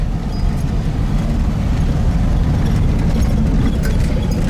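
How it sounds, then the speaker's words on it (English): A 1971 VW Type-3 Squareback 1600 Variant pulls hard in second gear, a loud, steady low engine drone with rumbling road and cabin noise heard from inside the car. "Pulling hard in second gear."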